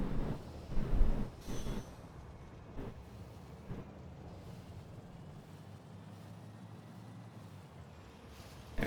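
A train in the video game Factorio rolling along its track: a steady low rumble with faint wheel hiss, a little louder at the start, then holding an even, moderate level throughout.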